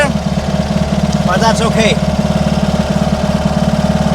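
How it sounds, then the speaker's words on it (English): Idling engine of a homemade trackless train, a steady pulsing low chug filling the cab, heard up close and loud under a brief spoken remark. "Once I start up the engine,"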